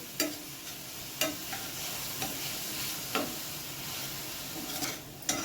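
Ground chili and onion being sautéed in a pan over a fast gas flame, a continuous close sizzle broken by periodic scraping clicks of a stirring spoon against the pan.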